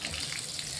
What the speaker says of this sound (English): I turn the faucet on and then shut it off